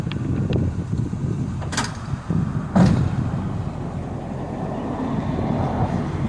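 A 1999 Mercedes C43 fitted with a hand-built 5.5-litre E55 AMG engine gives a low, steady burble at moderate volume. A couple of brief sharp clicks sound partway through.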